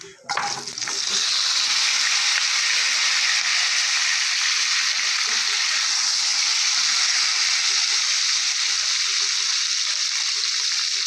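Cut potatoes frying in oil for a fish curry, a loud, steady sizzle that bursts in and holds strong throughout with no talking.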